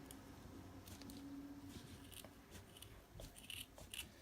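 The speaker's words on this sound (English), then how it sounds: "I just used my scissors." Cheap scissors snipping through craft felt at close range, faint crisp cutting clicks and rustles in a quiet room.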